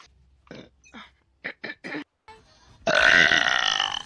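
A long, loud, rasping burp erupts near the end, after a few short vocal sounds and breaths.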